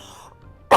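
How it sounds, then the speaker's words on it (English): A single sharp cough bursts close into a microphone near the end, following a brief trailing tone and a moment of near silence. "I'm so sorry if I cough in this mic."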